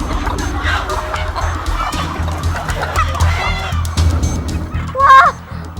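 Many chickens cluck and squawk close by inside a crowded poultry coop, a dense overlapping chorus with a sharper cry near the end.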